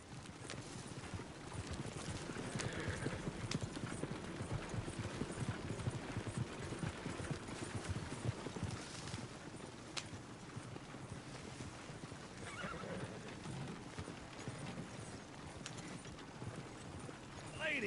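A horse gallops in Red Dead Redemption 2, its hooves drumming a steady, close clip-clop rhythm through the whole stretch over a low rumble of movement.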